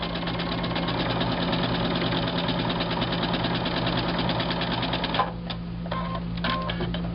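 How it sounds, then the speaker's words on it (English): Sewing machine running steadily as it stitches a quarter-inch seam through quilt triangles, a continuous close mechanical whir with rapid needle rhythm that stops briefly near the end before a few short bursts. "So I'm going to sew this with a 1/4 inch seam"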